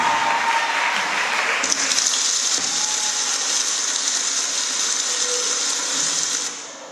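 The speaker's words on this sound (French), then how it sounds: "l'introduction de Vedruna sous vos applaudissements" A debate audience breaks into loud, continuous applause that swells after a moment and holds steady as a bright roar of clapping before dropping away abruptly at the end.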